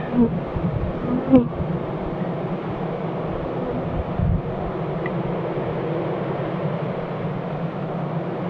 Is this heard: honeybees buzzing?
yes